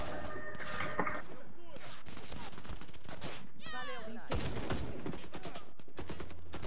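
Rapid automatic gunfire in Warface, a co-op online shooter, crackles in dense bursts amid explosions and game effects, with players talking over the team chat.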